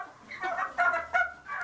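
Turkeys gobble on an organic farm in Wichtrach, Switzerland, in several close, loud, rattling bursts that follow one another over less than two seconds.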